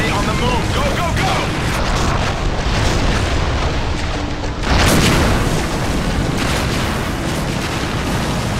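Loud, continuous artillery barrage in the video game TimeShift, with heavy booming explosions rumbling one into another and a big blast midway, all under a dense roar of battle.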